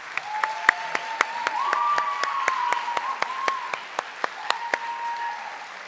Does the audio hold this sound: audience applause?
yes